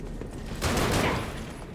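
Rapid enemy gunfire in the video game Lies of P, a dense burst that swells in the middle of the clip and fades back to a lower rattle, with no talking.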